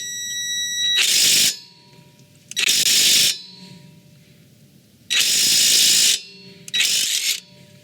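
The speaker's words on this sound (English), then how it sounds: "We're going to remove the 17mm bolts that hold in the strut to the hub." A ratchet removing the 17mm strut-to-hub bolts on a 2000–2006 Nissan Sentra, heard as four loud, close, whirring bursts of about a second each, separated by short pauses.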